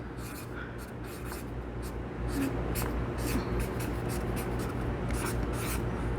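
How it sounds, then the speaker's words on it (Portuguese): A marker or chalk scrapes across a board in a business-management lesson, sounding as a steady run of short, close, rasping strokes that carries on through the whole stretch with no talking. "Vou escrever aqui em cima."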